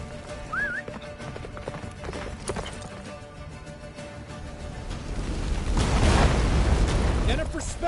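Roach the horse galloping in The Witcher 3, quick rhythmic hoofbeats mixed with a short whinny, a voice and swelling game music that builds into a loud rushing crescendo toward the end.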